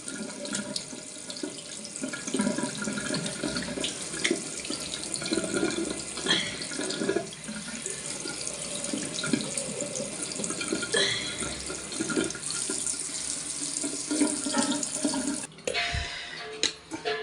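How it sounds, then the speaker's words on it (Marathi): Tap water running into a sink while a face is washed, a continuous close hiss of flowing water with splashes and hand rubbing, ending with the tap shut off and a few drips. "बघा हे पाण्याने असे धुवून टाकायचं आपलं"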